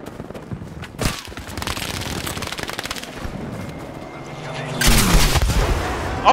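Anti-aircraft guns fire in rapid bursts in a video game, loud and close, with rattling automatic fire, a sharp boom near the start and a heavier barrage toward the end.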